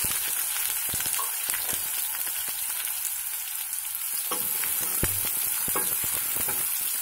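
Two finely chopped onions fry and are stirred in a pan for a tomato curry, a steady, dense sizzle with occasional scraping stir strokes throughout, close and fairly loud, with no talk.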